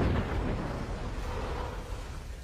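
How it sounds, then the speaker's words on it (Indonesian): A house blows up in a film scene, heard as a deep, sustained rumbling blast that dies away slowly, with no voices. "kertas yang sudah dilemparnya tadi mengakibatkan rumah Sersan Choi meledak"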